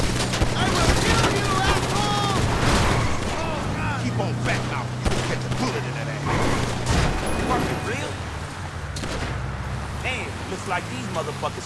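Rapid bursts of automatic gunfire in the online video game GTA 5, fired at rival gang members, dense and sustained throughout under people talking.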